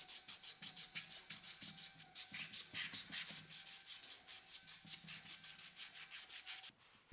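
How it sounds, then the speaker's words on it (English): 400 grit sandpaper rubbed back and forth over a corroded driveshaft carrier bearing mating surface on a 2003-2009 Dodge Ram 2500/3500, a quiet, steady rhythmic rasping of quick close strokes. "lightly run some 400 grit sandpaper over it until it has an even finish"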